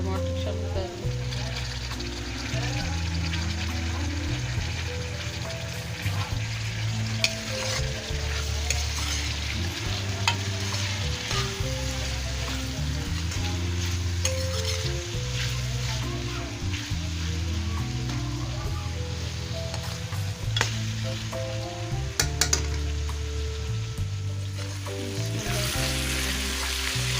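Tomatoes fry in a pan for a chicken liver and bitter gourd dish while being stirred, a continuous close sizzle laced with repeated scraping strokes of the spoon.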